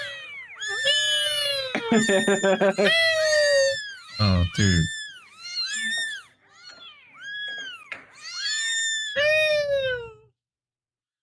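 Several cats meow and yowl in drawn-out, rising and falling cries, loud and close, one after another with short gaps, and a brief voice speaks among them.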